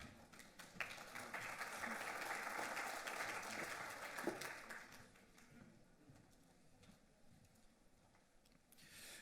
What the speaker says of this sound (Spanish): Una bienvenida y un aplauso para él